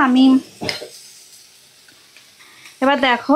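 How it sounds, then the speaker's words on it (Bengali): A spoon scrapes once through a thick spice masala with chopped tomato cooking in a pan for an egg curry, leaving a low, steady sizzle-like hiss. A person talks just before and after the stir. "তো এইবারে ভালো করে মশলাটা নাড়াচাড়া করে দেখো অনেকটা কষা কষা হয়ে গেছে।"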